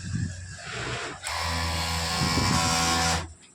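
A garment factory machine, the kind used for sewing trousers, starts abruptly and runs with a fast, steady buzzing whir for about two seconds before cutting off.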